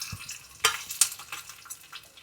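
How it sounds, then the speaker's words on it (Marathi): Garlic and curry leaves crackle and sizzle in hot oil for a tempering, with sharp pops and spattering bursts over a steady fry, close up and without talk. "आता आपल्याला हे सगळे लसूण कढीपत्ता याच्यात टाकायचं आहे, चांगलं तडतडून द्यायचं।"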